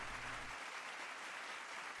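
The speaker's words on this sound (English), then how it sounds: "Thank you for the applause," Steady applause from a crowd fills the short stretch, a dense, even patter of clapping with no pauses, fairly quiet and heard alone without voices.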